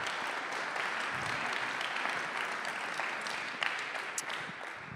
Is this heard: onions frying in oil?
no